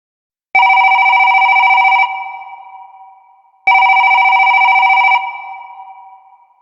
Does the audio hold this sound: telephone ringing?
yes